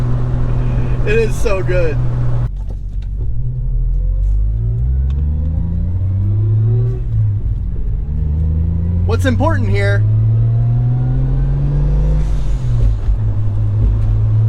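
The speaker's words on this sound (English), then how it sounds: "Get a little bit more blow-off valve action here for you guys." A turbocharged Toyota Supra with a five-speed revs repeatedly, its engine note climbing and falling, with sharp blow-off valve bursts, close and loud under someone talking.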